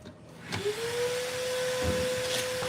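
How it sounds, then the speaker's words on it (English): A vacuum cleaner, plugged in to clean up dust after sanding a hole in a workshop, starts up and runs with a steady loud whine and hiss that holds at a constant pitch. "Plug in the vacuum."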